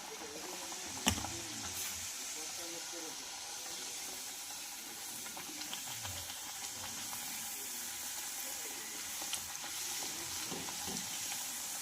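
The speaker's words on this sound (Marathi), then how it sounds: "तर अशाच पद्धतीने आपल्याला बाकीच्या पुऱ्यासुद्धा फ्राय करून घ्यायच्या आहेत." Sweet red pumpkin gharge puris deep-frying in hot oil: a soft, steady sizzle and bubbling throughout, fairly quiet, with a few faint knocks and clinks from the utensil.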